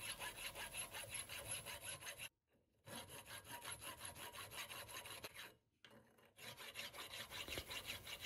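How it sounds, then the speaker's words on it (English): A sharp square hand file rasps steadily back and forth across the flats of a tough steel rod screwdriver blade clamped in a vise, in close, rhythmic strokes broken by two brief pauses. "start filing the flats of the screwdriver a little bit each side at a time by eye"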